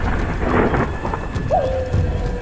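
Thunderstorm in an animated horror story scene, with strong gusting wind and rain rushing steadily, a low rumble underneath and a brief tonal whine partway through, no voices heard.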